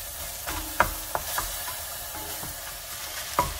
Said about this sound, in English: and just cook the ground turkey